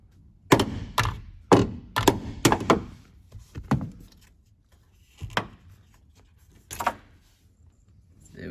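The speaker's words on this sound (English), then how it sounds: "it's now time to knock the door pins out" Hammer blows knock the hinge pins out of a van door, a series of sharp metallic thuds in irregular bursts with short pauses, then a few more spaced strikes, close and fairly loud.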